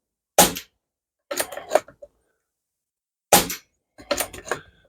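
Airgun pellets strike a steel Texas Star target: two sharp shots, each followed by a cluster of metallic clinks and rattles as plates are hit, loud and close with silence between.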